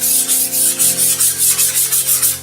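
Sandpaper rubs back and forth over a foam-covered Tuffbirds Tuffstar trainer airplane wing in about a dozen quick, even, loud close-up strokes, with a faint steady hum beneath.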